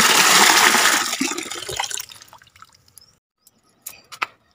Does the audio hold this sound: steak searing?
no